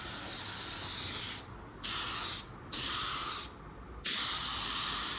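Spray gun laying a second wet coat of automotive paint, a loud close steady hiss in three long bursts broken by short pauses, with no talking.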